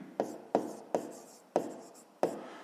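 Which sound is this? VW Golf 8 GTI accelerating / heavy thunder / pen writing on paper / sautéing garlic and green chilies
pen writing on paper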